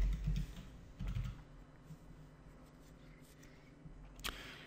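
Keys tapped on a computer keyboard while entering form fields, a few quiet clustered clicks near the start and a sharper one near the end, faint over a low room hum.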